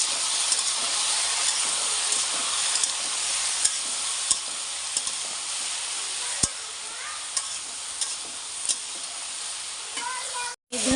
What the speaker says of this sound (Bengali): আর এই যে ঝিঙ্গাটা তুলে দিয়েছি সবজি।